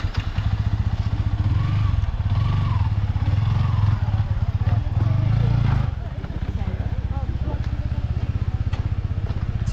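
A KTM motorcycle on a long ride toward Kathmandu, its engine giving a steady, close drone of rapid firing pulses mixed with wind rush, easing slightly a little past the midpoint before carrying on.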